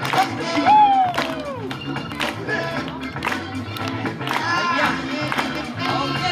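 Applause and cheering from a crowd at an outdoor kindergarten fair, a steady clatter of claps and shouts running throughout beneath an announcer's talk and a bright rising whistle-like tone early on.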